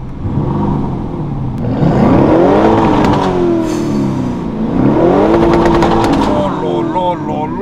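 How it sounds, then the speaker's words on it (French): A Lamborghini engine revs repeatedly, rising and falling in pitch with a few throttle blips, loud and close, and a voice talks briefly during it. "je vais mettre quelques petits coups de gaz, histoire que vous puissiez entendre"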